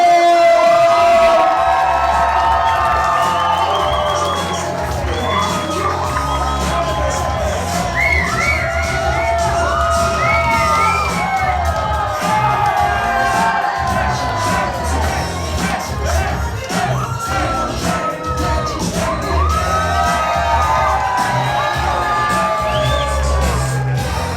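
Wedding guests cheer, whoop and applaud as the newlywed couple is introduced at the reception, a loud, dense crowd roar with shouts that holds steady for the whole stretch, with voices mixed in.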